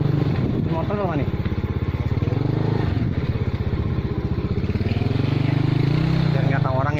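A motorcycle engine runs nearby on a village road near a sacred grave site, a loud steady putter with a slight rev midway, while people talk over it.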